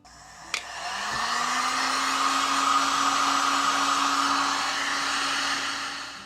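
A heat gun blows steadily while shrinking heat shrink tubing over wires on a shopmade fuel dolly, a close, even whooshing hum with a faint rising tone, starting after a small click and running alone without talk.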